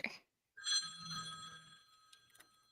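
A telephone rings faintly at a desk, a brief electronic trill with sustained bright tones lasting about a second, after a short burst of noise and a pause.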